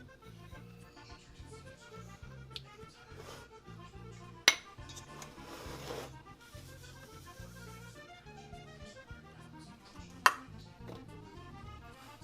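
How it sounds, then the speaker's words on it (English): Dry pizza dough ingredients being mixed in a bowl: quiet, uneven scraping and stirring with a few sharp clinks of a utensil against the bowl, close up and with no talk. "mix all of your ingredients into the bowl that are dry"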